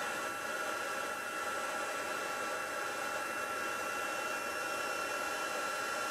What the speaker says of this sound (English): can you hear the heat gun?